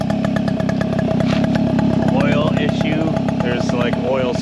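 A two-stroke moped engine running on premix idles loud and close, a steady buzzing putter with no pauses throughout.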